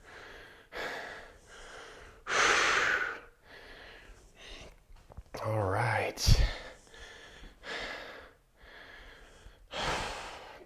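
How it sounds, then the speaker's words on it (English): Heavy rhythmic breathing during an arms and legs home workout with roadside-found weights, repeated forceful exhales and gasps close to the mic, with a brief spoken word in between. "Breathing."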